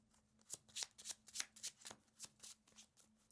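A deck of playing cards being shuffled during a card game, a rapid series of crisp riffling bursts close up, with no talk.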